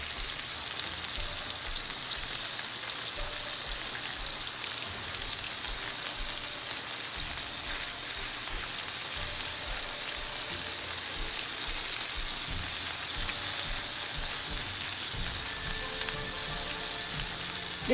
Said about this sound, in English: I'm just turning them before I drop the shrimp.